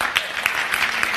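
A brief burst of audience applause at a TEDx talk, scattered claps from a modest crowd, short and fairly close.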